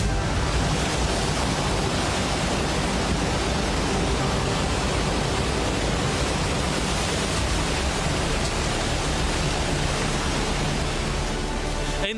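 A flash flood in Nepal after a glacier burst roars as a dense, steady rush of water, loud and unbroken throughout with no voices.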